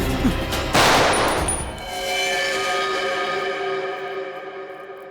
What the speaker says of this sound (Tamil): துப்பாக்கில இருந்து குண்டு வெடிச்சது.